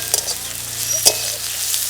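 Garlic sizzles steadily in hot oil in a pan for a fish curry, with a constant frying hiss and a couple of brief stirring clinks.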